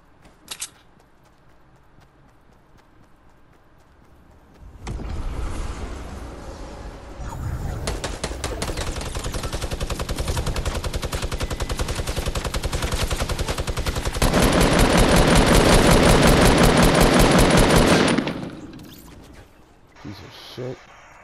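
Shooter video game gunfire: after a quiet start, sustained rapid automatic fire erupts, loud and continuous for about thirteen seconds, intensifying near the end before cutting off, with voices talking faintly.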